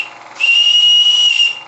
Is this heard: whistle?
yes